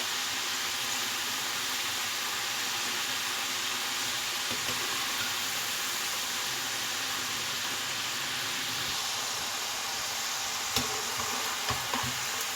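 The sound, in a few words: french fries deep frying in oil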